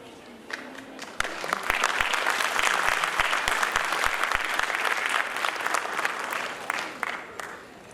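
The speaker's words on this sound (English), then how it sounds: "hearty round of applause." Audience at a school award ceremony claps loudly after a few sharp early claps, a full burst of applause building quickly, holding, then thinning out toward the end.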